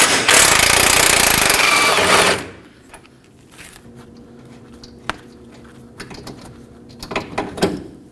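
A 17mm socket on a power tool buzzes loudly and steadily for about two seconds while removing a bolt from a 2016-2020 Kia Sorento's front suspension, then stops, followed by quiet clicks and small metallic handling sounds.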